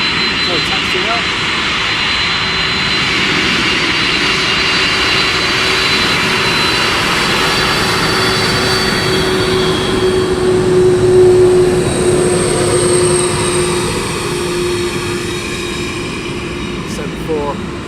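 Boeing 747 engines roar in a steady, loud drone during pushback at East Midlands Airport, a continuous whine sustained throughout with a slight swell near the middle.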